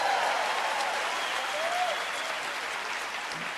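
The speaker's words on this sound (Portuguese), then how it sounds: "uma salva de palmas para Jesus maravilhoso" A church congregation applauds for Jesus at an evangelical service, a full, steady roll of clapping that fades slightly toward the end.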